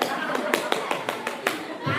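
A woman claps her hands in a brief demonstration at a religious study gathering, about eight sharp, evenly spaced claps close to the microphone, with faint room tone between them.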